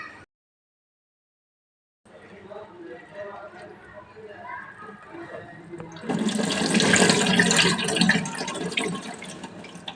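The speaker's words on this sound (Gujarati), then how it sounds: "એને આપણે બે વખત પાણીથી સ્વચ્છ ધોઈ નાખીએ" Tap water runs into a bowl of pigeon pea lentils, starting softly and swelling into a loud, rushing splash for several seconds, with a voice talking over it.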